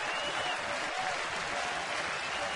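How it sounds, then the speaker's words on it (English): Baseball crowd at a Baltimore at Toronto game cheering in the stadium, a dense, steady roar of voices and clapping spread wide across the stands and holding level without a break. "The most excitement we've heard from this crowd this afternoon"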